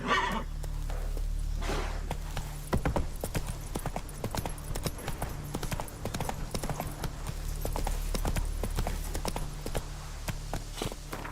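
A horse gallops in The Witcher 3, with rapid rhythmic hoof clip-clops running steadily throughout, plus occasional neighs and snorts over a constant low hum.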